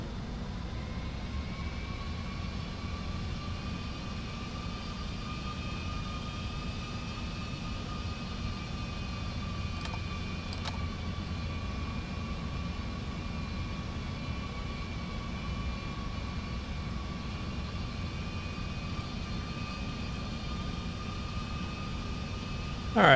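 Steady airliner jet engine drone in a Prepar3D flight simulator, a Boeing 747-400 flying by hand, a constant loud hum with a faint whine, and no talking.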